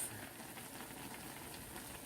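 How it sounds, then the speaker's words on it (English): A pot of water heats toward a boil for spicy chicken ramen, giving a faint, steady hiss and low bubbling that holds evenly throughout, with no talk. "So we're just waiting for the water to boil."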